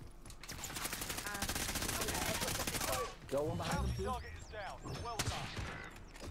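Video game gunfire rattles off as a loud, rapid stream of shots for about three seconds, then gives way to scattered single shots under excited talking.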